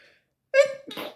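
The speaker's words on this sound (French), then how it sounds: "Je vais éternuer." A single sharp human sneeze, close and loud, comes right after a brief quiet pause during a casual vlog recorded in a car.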